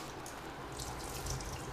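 Cut starchy vegetables being rinsed in a bowl of water while making borscht, a steady soft splashing and trickling wash that is close and fairly quiet, with no talking.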